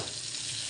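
Ground spices stirred in hot oil in a pan with fried onion give a brief, dense, continuous sizzle, close and even, with no voices.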